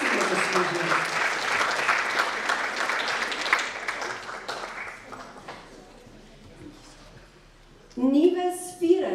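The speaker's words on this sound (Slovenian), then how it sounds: "Aplavz tako močan, vsi si ga zaslužili." Audience applause at a live youth awards event in Slovenske Konjice, loud clapping that fades partway through, followed near the end by a voice speaking.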